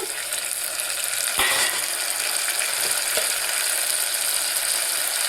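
Onions and tomato pieces fry in a pan for potato curry, a steady broadband sizzle running throughout with a brief louder clatter near the start and a few faint ticks, no voices.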